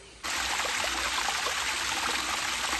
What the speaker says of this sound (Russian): водичка журчит, птички поют